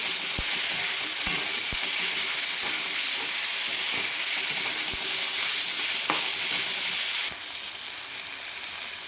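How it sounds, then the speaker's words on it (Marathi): Tomatoes sautéing with salt in a hot pan for a village-style prawn chutney: a loud, continuous close sizzle with occasional sharp clicks, easing slightly near the end. "दोन ते तीन मिनिट चांगलं परतून घ्यायचं"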